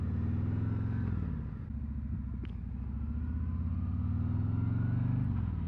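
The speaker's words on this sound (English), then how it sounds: "It actually sounds pretty good on acceleration." A 2024 Harley-Davidson Road King, an 807-pound touring motorcycle without a fairing, drones with a deep, loud engine rumble under way, its pitch rising and falling slightly as it accelerates and shifts.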